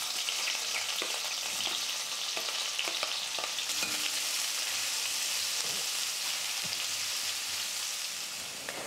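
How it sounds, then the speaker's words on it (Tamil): Chopped onion fries with garlic in a pan, giving a dense, even sizzle that holds steady from start to finish, close and continuous with faint stirring scrapes and no voices. "அந்த வெங்காயத்தையும் சேர்த்துக்கிறேன்."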